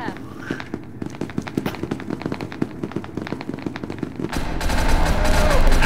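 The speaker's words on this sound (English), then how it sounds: "I hear gunshots." Rapid bursts of gunfire in the video game SCP: Secret Laboratory crackle in quick succession, loud and close, followed by a louder rushing grenade blast.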